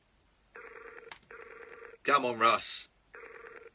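Ringback tone of an unanswered phone call on a late-night radio show, sounding in regular repeating bursts, with a voice speaking loudly between them.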